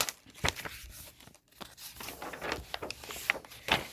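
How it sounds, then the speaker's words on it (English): Paper crinkles and crumples in several short crackling bursts, close and fairly quiet, with brief pauses between handfuls. "wrinkle up your paper"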